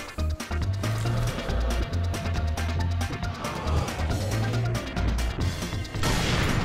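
A grenade explodes in the video game Sniper Elite 3, with a dense burst of crashing, booming impacts and debris rattling on and off across several seconds, loud and close, amid other game noise.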